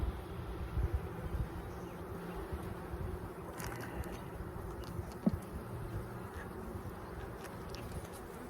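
Honeybees buzzing steadily around an open hive during a frame inspection, a dense continuous drone with faint handling noises.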